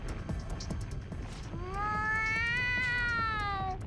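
A cat in Persona 5 lets out a clear, drawn-out meow, rising then falling, heard alone and fairly close after a stretch of softer game background noise.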